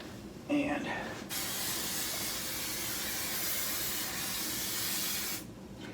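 Spray adhesive hissed onto quilt batting in one steady, continuous burst lasting about four seconds, close and fairly quiet, after a brief moment of faint sound.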